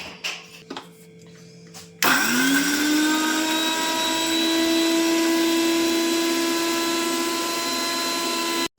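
Mixer grinder whirring steadily as it grinds spices with cumin seeds, starting abruptly after a few soft kitchen knocks and running loud and continuous with a high motor whine.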